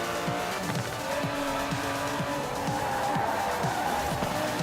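Aston Martin DB11 racing in Forza Horizon 4, a loud continuous engine roar with steady gear-shift pitch sweeps and tire squeal, close and unbroken throughout.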